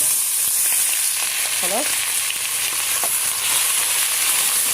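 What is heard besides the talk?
shrimp frying and being stirred in a pan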